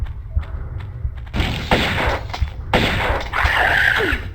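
Shotgun blasts in a Tomb Raider: Unfinished Business level set in Atlantis, several loud, close booming shots spaced a second or so apart amid game ambience, with faint talk early on.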